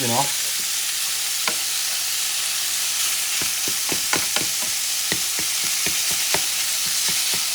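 Mexican longaniza sausage sizzling loudly in a pan while a spatula breaks it apart, sharp scraping taps striking repeatedly over the steady frying hiss, close and without speech.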